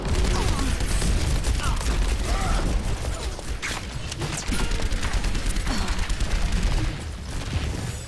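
Rapid bursts of gunfire in the video game Overwatch, dense crackling volleys and impacts that keep going almost without a break, with a short lull partway through.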